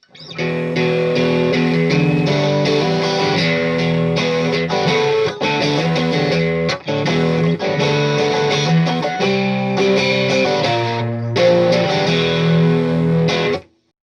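A 1999 ash Stratocaster Deluxe through a Tube Screamer overdrive pedal plays crunchy chords and lead lines, loud and close, with brief pauses between phrases.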